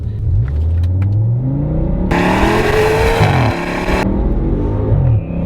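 An Audi RS6 with a V10 engine revs up through rising gears while accelerating on the autobahn, loud and close, with a steady roar of wind and road noise and no talking.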